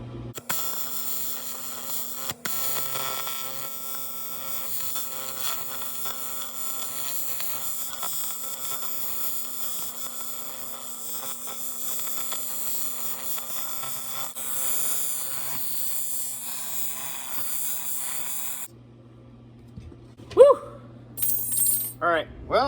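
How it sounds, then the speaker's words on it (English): Steel fittings are TIG welded shut on a Mk3 Supra 1JZ conversion: a steady electrical hum and buzz with a constant tonal drone. It cuts out near the end, followed by a few clinks and brief movement sounds. "We're gonna go ahead and TIG weld those shut"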